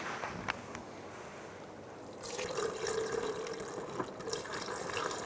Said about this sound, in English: Take your cap off, put a funnel in, and you can put your washer fluid back in or put new stuff in